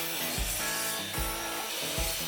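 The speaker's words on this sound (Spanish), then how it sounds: "Ahora vamos a proceder a cortar las maderas que usaremos para el palillaje decorativo." A saw cuts through planed 1 by 2 inch pine in steady, rhythmic strokes, each rasping pass clearly audible up close with no voices.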